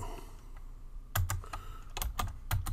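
Several bursts of keystrokes on a computer keyboard, close and crisp, coming in short irregular clusters after a quiet start.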